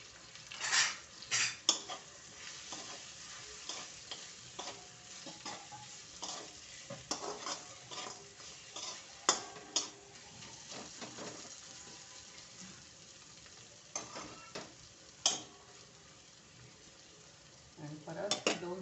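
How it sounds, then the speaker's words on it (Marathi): A spoon scrapes and stirs through raw tomato curry with jaggery and fresh grated coconut in a pan, giving irregular clinks and scrapes over a low, steady sizzle. "आता याच्यात गुळाचा कडा टाकायचा आणि ओलं खोबरं"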